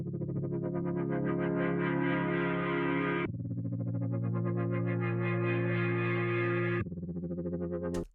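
A slow stutter effect chops a sustained, distorted harmonic tone into rapid repeating pulses, running in long loud blocks that break off abruptly and restart, with a brief burst at the very end.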